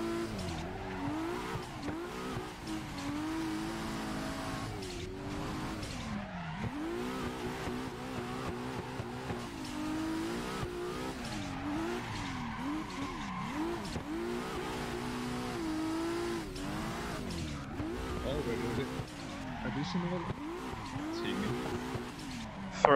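A race car in a racing video game, driven with a steering wheel setup, drifts with a steady engine roar. Tires squeal and skid repeatedly as it slides through corners, with revs rising and falling.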